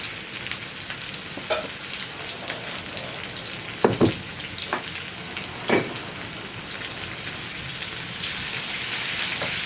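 Onions sizzling in a hot pan with salt, a steady crackling hiss with a few sharper pops and spits, close and fairly faint, no one talking.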